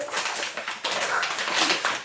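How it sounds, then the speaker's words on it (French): Dogs make a racket with whimpers, yips and barks in a continuous, loud, noisy clamor close by, with no clear gaps between calls. "Il y a les chiens qui font le bazar"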